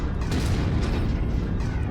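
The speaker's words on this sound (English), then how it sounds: "Let's get him some LRM ammo explosion." An LRM ammunition explosion goes off on a mech in the MechWarrior video game, a dense, heavy, rumbling blast that roars steadily and loudly for two seconds with no talk over it.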